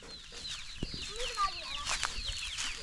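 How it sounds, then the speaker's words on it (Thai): Chickens clucking and chirping close by, a flurry of short calls overlapping, with a few knocks and rustles beneath. "ไก่น้อย"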